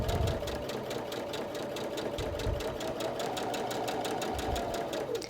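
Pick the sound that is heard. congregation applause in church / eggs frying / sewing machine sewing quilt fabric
sewing machine sewing quilt fabric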